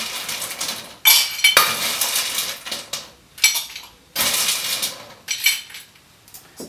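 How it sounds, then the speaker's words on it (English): Ice cubes clatter and clink into a cocktail glass in a few loud bursts, close by, with short pauses between pours, chilling the glass. "So I'm going to put some ice in here."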